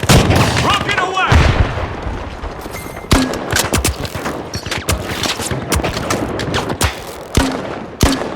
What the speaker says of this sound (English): Rocket away!